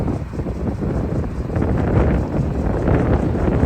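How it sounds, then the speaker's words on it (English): Steady, loud wind buffeting the microphone, a continuous low rumble with gusts swelling and easing, no voices. "Sorry, it's windy today."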